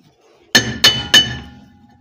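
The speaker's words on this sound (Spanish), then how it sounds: "Le vamos a ir dando golpes parejos en un lado y en otro" Three sharp metallic hammer taps ring out on the brake drum of a Peugeot Expert van as it is worked loose, evenly spaced and close, each strike leaving a brief bright ring.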